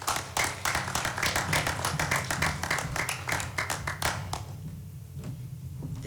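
Audience applause at a school prize-giving ceremony: a burst of many hands clapping, dense and steady, tapering off near the end as the room quiets.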